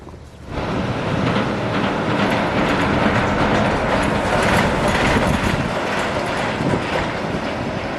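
A hanging monorail train in Tokyo passes close by, its steady loud rumble and faint rail clatter filling the whole stretch with wind buffeting the microphone.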